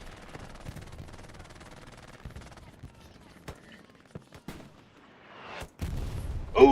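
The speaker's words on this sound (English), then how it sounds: "Artillery coming down." Artillery fire in Hell Let Loose at night on Foy, scattered distant booms and sharp cracks over low battlefield rumble, with a heavier impact building near the end.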